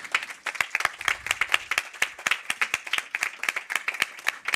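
A small audience at a Hispanidad 2025 literature event claps for a playwright and cultural manager: sparse, distinct handclaps from relatively few people, near and moderately loud, with no talk over them.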